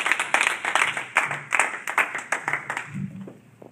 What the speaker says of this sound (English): Clap it up, everybody. Clap it up, clap it up.